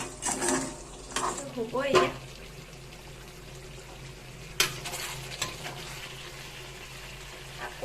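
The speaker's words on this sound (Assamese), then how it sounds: "এতিয়া ইয়াতে মই অকণমানকৈ পানী দিম।" Duck curry sizzles in a pan as a little water goes in, with a burst of hissing, stirring and metal scrapes against the pan, then steady frying beneath a brief spoken word.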